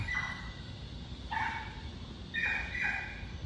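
A dog gives a few short barks and yips at a distance, in two brief bursts over a steady low background rumble, with no talking.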